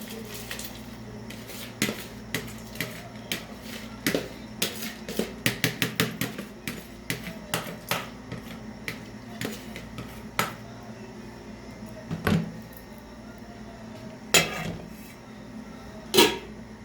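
Rice goes into a metal cooking pot while making zarda, a sweet rice dish, with repeated clattering knocks and clinks of metal on metal, several in quick bursts, close and fairly loud.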